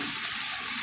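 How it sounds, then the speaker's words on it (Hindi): Hot water pours steadily into a pot of cooking chana daal in a commercial kitchen, a continuous close rushing splash with no break. "तो आप थोड़ा सा पानी शामिल करेंगे गर्म वो"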